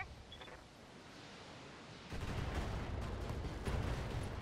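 Mech weapons fire in the BattleTech video game: a dull background hiss gives way midway to a louder, sustained broadband roar with faint repeated impacts.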